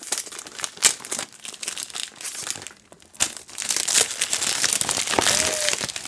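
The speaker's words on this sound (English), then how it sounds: "we are gonna unwrap, unbox, ASMR moment" A Parfums de Marly Althair fragrance package is unwrapped and unboxed up close, with bursts of crinkling, crumpling paper and plastic and tearing, a brief pause near the middle, then steadier rustling.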